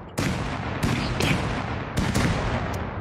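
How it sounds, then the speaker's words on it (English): Bombs and gunfire burst in an online survival video game, a dense run of sharp, loud blasts cracking out one after another over about three seconds with no talk. "They got bombs."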